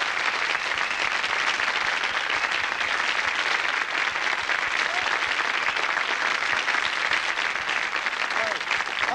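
A studio audience applauds the Pan's People dance troupe on a TV game show, dense continuous clapping that holds steady and loud throughout with no break.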